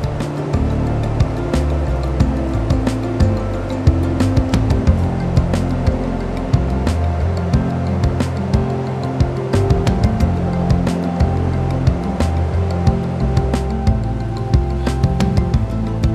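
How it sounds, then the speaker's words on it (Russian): A river in the Sayan mountains rushes loudly and continuously during a fishing trip, a dense steady roar with deep rumbling underneath and no voices. "Река"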